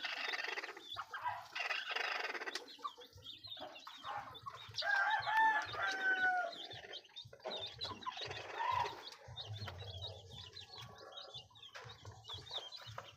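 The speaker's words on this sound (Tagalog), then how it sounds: "yung lahat ng inahin natin isama-sama lang sila dito sa isang malaking kulungan na to" White Kelso hens gathered in one large coop cluck and call in scattered bursts, some high squawks and a rising crow-like call, fairly close, with soft thumps and shuffling beneath.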